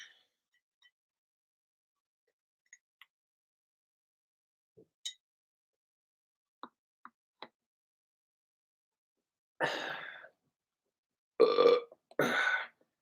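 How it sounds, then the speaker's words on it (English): A person burps after a swig of beer: a few faint clinks and ticks, then three loud, close belches in quick succession near the end, with silence between. "A beer burp?"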